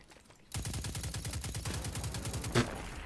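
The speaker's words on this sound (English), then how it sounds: "Look, they're shooting up here." Rapid automatic gunfire from enemies in the video game Destiny 2, a dense rattling burst that starts abruptly and runs steadily for about two and a half seconds, with one louder shot near the end.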